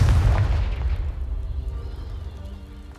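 A deep, booming explosion from the Confringo blast spell in Hogwarts Legacy, hitting hard at once and rumbling off into a fading low-frequency roar, loud and close.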